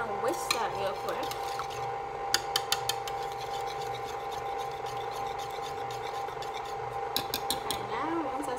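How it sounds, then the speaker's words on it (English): Eggs and vegetable oil whisked by hand in a bowl for cinnamon buns, a steady close scraping and rasping with a few sharp clinks against the bowl. Soft background voices murmur underneath. "we're going to add the 2 eggs with the vegetable oil. And we're going to whisk that real quick."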